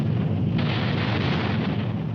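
Japanese torpedoes strike the aircraft carrier Yorktown in a dense, rumbling explosion that roars continuously with a heavy low boom swelling midway, loud and unbroken.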